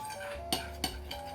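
Pizza sauce stirred by hand in a bowl, three quick clinks of a utensil against the bowl over a quiet background.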